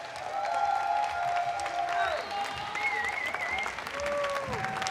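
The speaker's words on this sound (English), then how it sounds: "A big round of applause for all of our YouTube creators, guys." An audience applauds and cheers for YouTube creators at the King's Cup grand final, steady clapping and crowd noise with whistles and rising shouts layered over it throughout.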